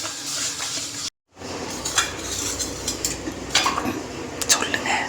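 Egg and sugar mixed by hand in a bowl, close wet squelching and slapping with light clinks against the bowl, a brief silent gap near the start, then irregular mixing strokes.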